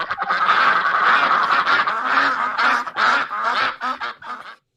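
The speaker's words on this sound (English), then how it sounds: "Play the What's Quacking Ducks. We need some ducks in here." A played sound effect of ducks quacking and honking fills the space with a dense, loud, continuous chorus of overlapping calls that tapers off near the end.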